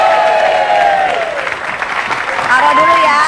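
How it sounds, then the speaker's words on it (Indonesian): A studio audience applauds on the Indonesian TV talk show Bukan Empat Mata, a steady wash of clapping with cheering and voices and music mixed in throughout. "Tepuk tangan dong."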